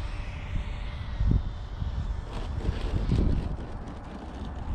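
A Freewing Avanti RC jet with a stock 1920kv motor on an 8s battery flies in for a downwind landing, its ducted-fan motor giving a steady, fairly distant whine and roar with wind rumble.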